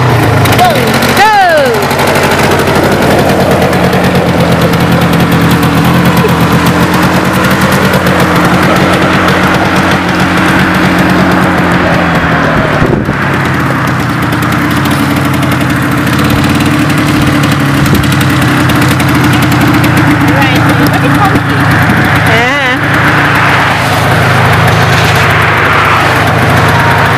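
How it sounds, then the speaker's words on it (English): Four-wheeler ATV engine running steadily, loud and close throughout, with a low droning tone and rough mechanical vibration, while people talk over it. "going on the four-wheeler"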